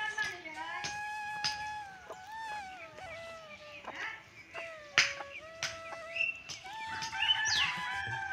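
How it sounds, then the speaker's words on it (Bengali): A rooster at a neighbouring house in a Sylhet village crowing in drawn-out wavering calls, mixed with other bird chirps at moderate distance. "আমরা পাশের বাড়ির মুরগি একটা আছে এগিয়ে খালি বাং দেয়"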